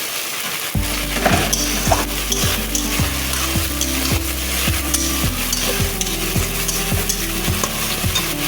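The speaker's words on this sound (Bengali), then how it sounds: "এখন আমি বেটে রাখা মশলাটা দিয়ে দেবো। মশলা দিয়েও আমি ভালো করে কষিয়ে নেব।" Ground spice paste frying in hot oil for a chicken curry, stirred steadily, with a continuous close sizzle, scraping strokes and a low background hum running the whole time.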